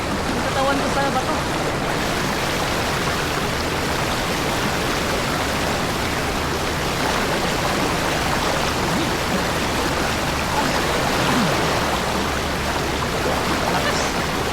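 Strong river current pouring at Daranak Falls in Tanay, Rizal, a loud, dense, unbroken rush of water that fills the whole clip, close by and steady.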